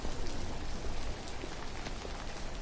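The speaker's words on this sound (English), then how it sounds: "Warm rain drizzled on my shoulders and ran from the brim of my hat." Warm rain drizzles steadily onto a sidewalk, a dense hiss of fine drops with scattered brighter patters, even and close, with no voices.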